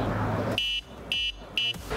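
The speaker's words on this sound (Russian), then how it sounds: "Третья кнопка на тумблере является электронным клаксоном." Electronic horn on a MINAKO V8 PRO electric bicycle sounds three short, loud buzzing beeps in an uneven rhythm, each about a fifth of a second long, with a low background hum between them.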